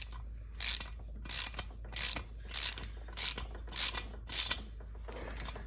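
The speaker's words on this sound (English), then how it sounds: "Now I am gonna have to torque it down." A wrench ratchets in short repeated bursts, about eight evenly spaced clicking runs, as nuts are torqued down on a VortexAero exhaust for a 2019 model; close and fairly quiet, with no talking.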